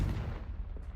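Confringo fire spell exploding in a Harry Potter video game, a single deep booming blast that rumbles and fades over about a second.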